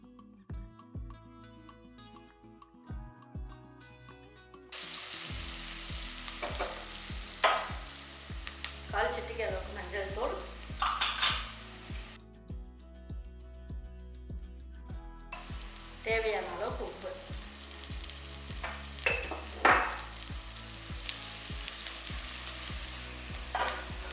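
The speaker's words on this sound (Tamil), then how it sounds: "வெங்காயம் இந்த அளவுக்கு வதங்கினா போதும்" Thinly sliced large onion sautés in a pan with a bright sizzle and repeated spatula scrapes that come in two bursts. Quieter stretches before and between them carry a steady background tone.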